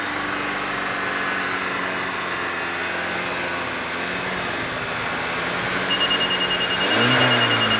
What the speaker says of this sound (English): And you could hear the motor lugging up.